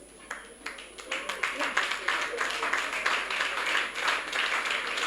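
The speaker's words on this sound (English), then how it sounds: "please stand up for a round of applause" Applause breaks out at a political rally for movement leaders and coordinators, building from a few scattered claps into a steady moderate round, with crowd voices mixed in beneath the clapping.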